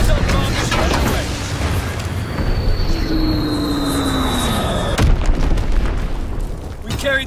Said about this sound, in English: Dropping Azon bomb. Azon bomb is on the way.